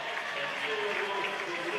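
A crowd applauds riders being presented at the Madison National Championships at a cycling track. The clapping is steady and sustained, and a commentator's voice runs over it.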